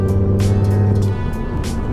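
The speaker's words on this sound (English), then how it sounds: "It's like burbling in the background, enough that you know it's there, but not enough that it's just drowning the experience out" A Ford Focus ST's five-cylinder engine burbles steadily from inside the cabin while driving, a low continuous drone that eases slightly partway through.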